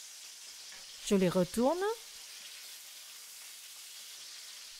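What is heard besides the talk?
chicken pieces searing in a pan for paella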